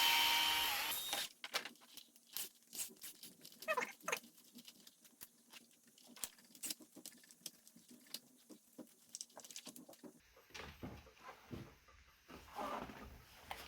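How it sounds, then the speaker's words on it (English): Small screws being unscrewed from the receiver cover of an Arrma RC car, heard as faint, close, irregular clicks and scratchy ticks from a small screwdriver in otherwise quiet surroundings. "You need to take your 3 little screws out of the top of your receiver to open it up."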